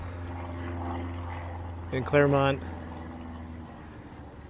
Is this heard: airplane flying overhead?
yes